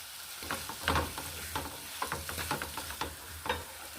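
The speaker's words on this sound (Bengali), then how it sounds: "একটু জল দিয়ে ভালো করে মশলাটা কষে নিয়েছি" Spice paste loosened with a little water sizzles in a pan for a village banana-stem curry, with a steady fry under a run of rhythmic scraping stirring strokes, close and clear.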